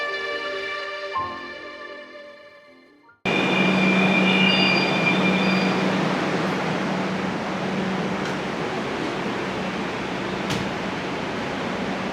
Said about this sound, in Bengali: এই মুহূর্তে আমি দাঁড়িয়ে আছি মেট্রোর ভিতরে, ঢুকে পড়েছি।